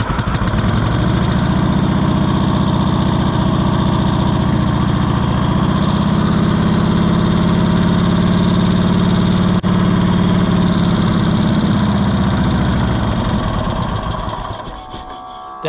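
A Cushman Truckster's small engine runs and idles steadily at close range, a loud constant buzzing drone that holds for the full stretch and then sags and falters near the end as if about to stall.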